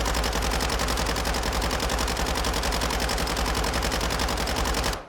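Submachine gun fire in Warzone 2, one long unbroken burst of rapid, evenly spaced shots, loud and close, cutting off abruptly at the end.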